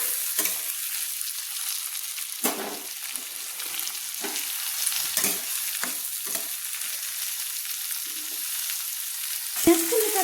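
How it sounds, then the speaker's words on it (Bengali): Three chopped onions fry with salt in a pan until browned, giving a steady, close sizzle broken by repeated scraping and stirring knocks. "ভালো করে আমি পেঁয়াজগুলোকে লাল লাল করে ভেজে নিচ্ছি"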